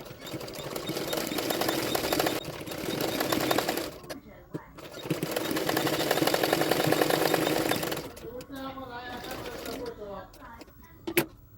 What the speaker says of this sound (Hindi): उसको इस तरह से फोल्ड करते हैं और एक सिलाई डाल दूंगी